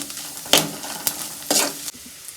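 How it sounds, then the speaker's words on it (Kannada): Ginger garlic paste fries in a pan over a medium flame, a soft continuous sizzle punctuated by a few brisk scraping stirs of a spatula, close by and without speech. "ಮೀಡಿಯಮ್ ಫ್ಲೇಮಲ್ಲೇ ಇಟ್ಕೊಂಡು ಫ್ರೈ ಮಾಡಬೇಕು"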